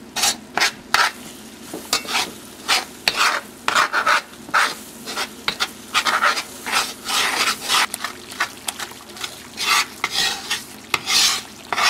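Flour being stirred into melted butter in a pot for a crab and mushroom bisque roux, heard as repeated close, scraping rasps of a utensil against the pan with a faint sizzle underneath, in a steady uneven rhythm and no talking.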